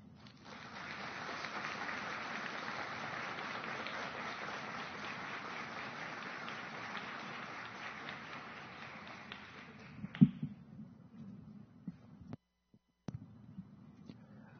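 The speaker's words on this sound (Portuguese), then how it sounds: "nossas palmas em reconhecimento ao seu trabalho" Audience applause at a solemn honorary ceremony for a parish priest, steady, moderately distant clapping that sustains for about ten seconds, then tapers off into quiet room noise with a few isolated knocks.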